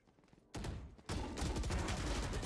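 The Judge shotgun fires in a Valorant match: after a quiet start, a loud blast lands, then a second one, and dense noisy clatter carries on to the end, with no voices.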